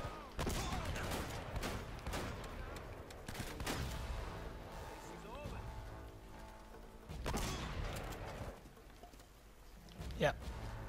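Gunfire in the video game Uncharted: Drake's Fortune, with several loud bursts of shots and impacts at the start and again near the end, mixed with game sounds and a voice talking over it.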